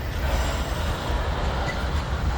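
Continuous rumbling roar of a CN mixed freight train passing close by at Argenson Park, steady rolling wheel noise with no break and no voices.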